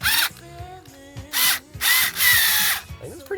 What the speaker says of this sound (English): Now I got a little all-in-one cordless screwdriver.